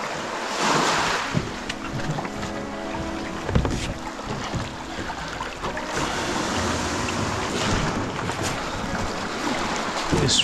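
Waves slapping against a fishing kayak on open water, a steady rushing wash with gusty wind noise on the microphone and a sharper splash partway through, loud and close throughout.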